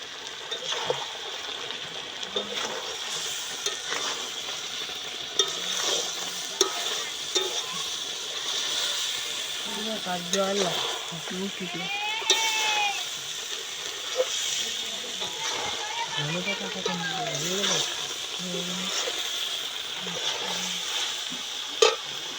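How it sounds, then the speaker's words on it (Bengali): Meat curry with coriander leaves being stirred in a pot after the lid comes off. A steady hiss of steam and sizzling runs throughout, broken by scraping and clinking stirs. Faint voices and brief tonal sounds come and go in the background. "এবার একটু নেড়ে দিতে হবে।"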